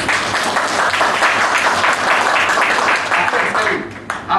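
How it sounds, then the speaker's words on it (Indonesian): Audience applause at a Malay-language sales seminar fills the room, steady dense clapping throughout, with some voices mixed in, tapering slightly near the end. "Bagi tepukan pendanda yang berkongsi."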